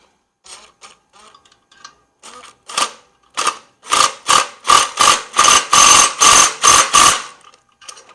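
A ratchet tightens down a part on a McLane edger. A series of sharp, loud clicking bursts starts sparse and gets faster, then comes in rapid regular strokes close by before trailing off.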